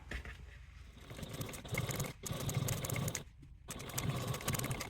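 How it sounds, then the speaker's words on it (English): Lining being top stitched on a sewing machine, a quiet rapid mechanical whir running in bursts with brief pauses between runs, fairly close but low in level. "You take this back to your machine and top stitch through the lining at a 1/8 seam allowance."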